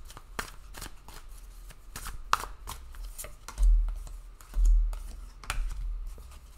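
Tarot cards are shuffled and drawn at a reading table: a run of crisp, irregular flicks and slaps close to the mic, with a few heavier soft thumps near the end and no talking.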